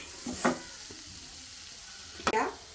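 Potatoes sizzle in a hot pan for a South Indian wedding-style potato masala, with two short bursts of stirring and scraping against a low, steady frying hiss close by.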